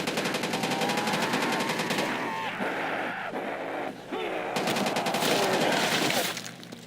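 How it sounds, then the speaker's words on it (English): Enfield rifle gunfire in Black Ops zombies mode, a steady stream of loud, sharp shots with a brief lull midway before the firing picks up again, heard alongside game sound. "So listen to the gun sound."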